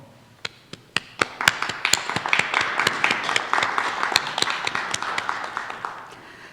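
Audience applause at a nursing graduation ceremony: a steady patter of many hands clapping, starting with a few scattered claps, then swelling into a dense, even ovation that carries on throughout.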